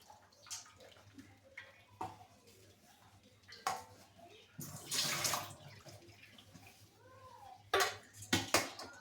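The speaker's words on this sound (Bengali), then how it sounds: "আমার আলু সেদ্ধ হয়ে গেছে, এটা ছাঁকনার সাথে ছেঁকে নেবো" Boiled potatoes are drained through a strainer, water splashing and gushing in short bursts with clattering of a pot and metal against the sink, close and moderately loud.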